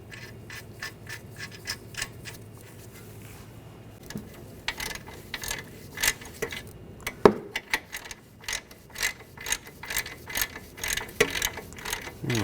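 Ratchet tightening a tie rod nut on a 2013-2019 Ford Escape steering knuckle, a steady run of close, sharp clicking strokes that grow louder and more forceful toward the end, with no talking.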